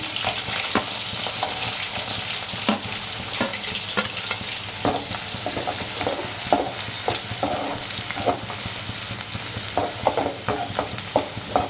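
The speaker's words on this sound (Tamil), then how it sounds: "நல்லா வதக்கிட்டோம்." Green chilli and onion sautéing in an oiled pan with mustard seeds and cumin, a steady loud sizzle broken by repeated sharp scrapes and clicks of a spoon stirring against the pan, with no voices.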